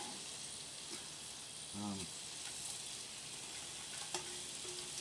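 Soft, steady frying sizzle with a faint hiss throughout, broken by a couple of brief clinks and a short low murmur.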